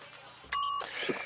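A short bell sound effect gives one bright, ringing ding that stops after a moment, then a brief tail of fainter noise, close and alone.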